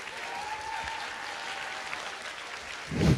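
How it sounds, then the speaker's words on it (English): Soft, continuous applause from an audience at an inter-house school science quiz sits at a fairly low level, with a louder bump right at the end. "there's a round of applause for you"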